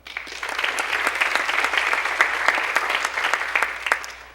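Steady applause from a town hall audience, many hands clapping in a dense, even patter that holds for several seconds before trailing off.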